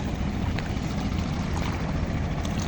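A trawler loaded with cows motors along the Kaliganga river at Jamsha, giving a steady low engine drone mixed with rushing water and wind, close and constant with no voices.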